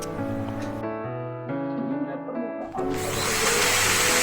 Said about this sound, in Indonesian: Gerinda permukaan pada bagian luar untuk mengetahui lebar rusaknya